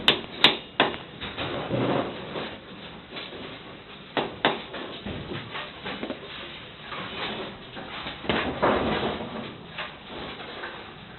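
Gear wheel being tapped onto an axle to make room for a split ring, heard as a series of irregular light metallic taps and knocks, some sharper and louder, close up, with no speech.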